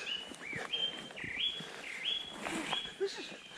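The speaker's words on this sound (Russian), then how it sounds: "Снимай пение птиц." Birds singing outdoors at a country house, clear repeated whistled chirps and tonal calls at moderate distance, with faint voices in the background.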